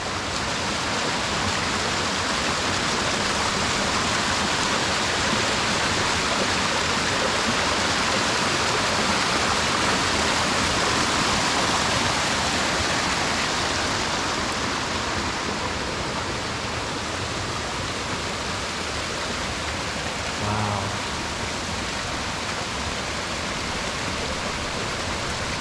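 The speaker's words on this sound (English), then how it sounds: "So much water on this side of the mountain" A mountain stream rushes loudly and continuously on a trail near Mt San Jacinto's Deer Spring route, a dense unbroken roar of flowing water close by with no voices.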